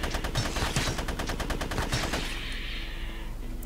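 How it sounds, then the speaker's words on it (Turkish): Rapid automatic gunfire in the survival game GRAV, a dense close burst of evenly spaced shots for about two seconds before it cuts off into fading echo. "Buradan doğru sıkacağım sana."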